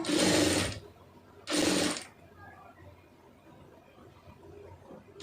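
A sewing machine stitches a puff sleeve in two short, loud bursts of rapid running, separated by a pause, followed by quieter handling sounds.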